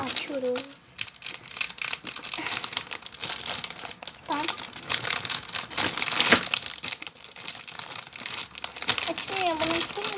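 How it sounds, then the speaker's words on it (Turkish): Plastic packaging from a toy order crinkles and tears with a steady run of close, rustling crackles, while a voice exclaims in short bursts over it. "Aa, yırttım. Yırttım. Yırttım gitti valla."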